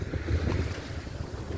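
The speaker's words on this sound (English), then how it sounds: "The big waves here are due to a big ship that just went by." A sailboat crossing large waves left by a big passing ship, with the sea washing and slapping against the hull under strong wind buffeting the microphone, loud and continuous throughout.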